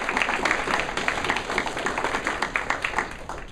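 Indoor audience at a youth appreciation and recognition event clapping for the parents, a dense, moderately loud patter of hands that carries through the whole stretch and eases slightly at the end.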